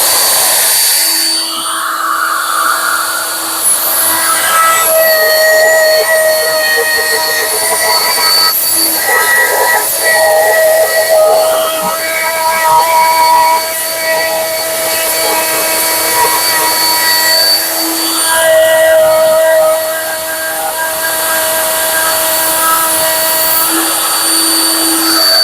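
Router trimming veneer edge banding along a square edge on a kitchen worktop during an install, a loud steady motor whine with high tonal harmonics running continuously throughout, pitch dipping slightly as it cuts.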